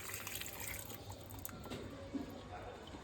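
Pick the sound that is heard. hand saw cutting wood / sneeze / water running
water running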